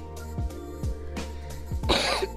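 Several harsh coughs in quick succession, close and fairly loud, with short pauses between bursts and a rougher final cough.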